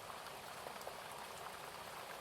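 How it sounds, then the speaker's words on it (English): Quiet, constant rain pattering on surfaces, a gentle even hiss with scattered light drops and nothing else audible. "The sound of the rain,"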